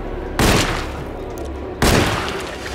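Two heavy, close gunshots ring out about a second and a half apart in the horror video game Alone in the Dark, each loud blast trailing off into a dull echoing rumble.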